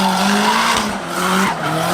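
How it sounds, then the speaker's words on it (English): Nissan SR-engined car with its muffler still fitted, its exhaust note droning loud and close with a steady tone that dips briefly in the middle before rising again, alongside tire squeal from skidding. "It's got a really nice SR note."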